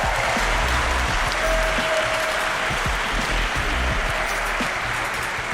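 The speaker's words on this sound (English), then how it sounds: "I want to please give yourselves a round of applause for being so amazing every year" Crowd applause at the Simple Session BMX event, a dense, steady wash of clapping from a large audience that holds at a constant loud level throughout, with no voices standing out.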